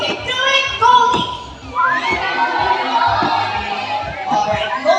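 A bird show audience at Cebu Ocean Park cheers, with children's high shouts and crowd noise rising in short bursts, mixed with a presenter's voice speaking over it.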